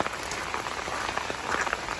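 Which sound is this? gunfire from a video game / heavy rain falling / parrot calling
heavy rain falling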